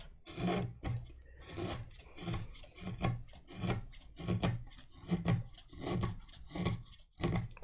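Steady rasping strokes as wood is carved across the grain, roughly a dozen rhythmic scrapes about half a second apart, close and clear with no talking.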